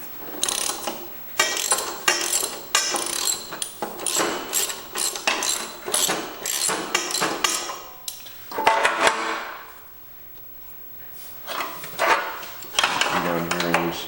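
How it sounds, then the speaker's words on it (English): Ratchet working old bolts loose on a 1971 engine, a close, busy run of rapid clicking and metallic clatter with short pauses, louder bursts and a brief quiet gap before the clicking resumes. "we might just need to take that off with a ratchet"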